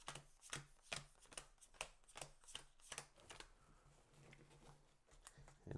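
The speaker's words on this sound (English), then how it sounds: "So let's just do a little shuffle here." Playing cards being shuffled for a Marvel Legendary deck-building game, a quiet close series of rapid riffling bursts and soft flicks in an irregular rhythm, with no talk over them.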